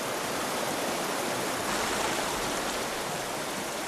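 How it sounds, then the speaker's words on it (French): Fast-flowing river water rushes continuously around a canoe entering small rapids, a steady broadband hiss that stays loud and even throughout, with no voices. "Le courant de la rivière s'accélère ici."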